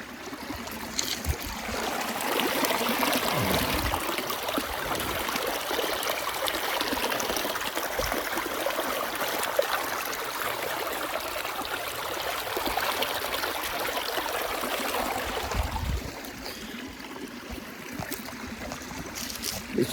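Water runs steadily and fairly close while blood is rinsed out of a freshly caught fish, a continuous trickling splash that stops near the end, with no talking.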